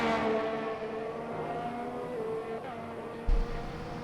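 A race car crosses the line at Qatar in a racing broadcast, its engine a steady high whine with shifting pitch as it passes, ending in a brief low thump.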